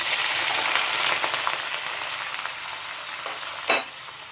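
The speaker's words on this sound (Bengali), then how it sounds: "এবার আমি এখানে বড় সাইজের 3টে পেঁয়াজ কেটে রেখেছিলাম, সেটা আমি দিয়ে দিচ্ছি তেলের মধ্যে" Three large chopped onions frying in hot oil that already holds warm whole spices, a dense continuous sizzle close to the mic, slowly easing off, with one brief clatter near the end.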